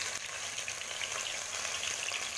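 Frying chicken pieces in a pan crackle and hiss as water is poured in, a dense, steady sizzle close by, no voices.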